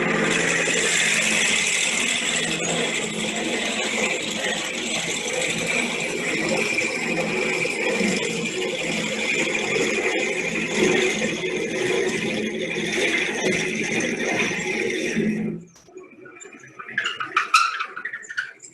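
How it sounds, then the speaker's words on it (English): A lathe runs with a steady whirring, grinding drone while a bit drills into a workpiece for about fifteen seconds, then the motor cuts off, leaving a quiet tail with a few faint clicks. "So I'll turn the lathe on, turn the speed down a little bit, put on my face shield and drill down in."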